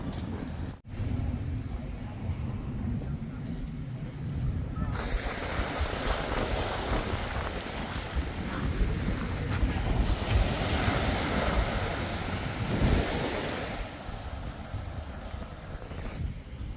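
Ocean waves roll in and wash against Roker Beach in Sunderland, a continuous roar of surf mixed with strong gusts buffeting the microphone.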